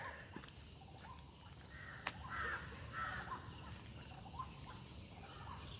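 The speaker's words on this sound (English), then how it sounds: "Yeah, I'm sure you can hear some birds." Harsh cawing bird calls ring out a few times at Kaikondrahalli Lake in Bangalore over a steady outdoor wash of ambient noise, moderately distant.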